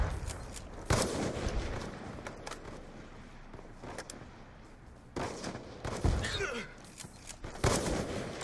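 A Dragonfire gun fires in the Black Ops 2 trickshotting game, with loud bursts of gunshots coming in clusters separated by quieter stretches.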